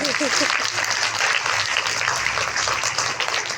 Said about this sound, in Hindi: तो एक बार आप इन बच्चों के लिए तालियां बजाएं।